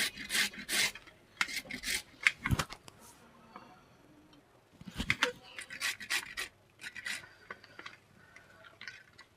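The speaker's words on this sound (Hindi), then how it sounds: "तो हमने यहाँ कद्दूकस ले लिया है और ये घिस लेते हैं।" Thin carrots being grated on a hand grater for carrot barfi, rhythmic rasping strokes in short bursts with pauses between, close and fairly quiet.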